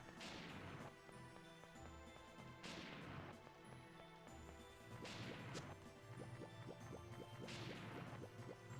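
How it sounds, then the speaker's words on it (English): Repeating splashing water effect from the video game Tales of Symphonia, bursts of liquid crashing every couple of seconds over a steady layered game soundscape. "Like this water sound effect."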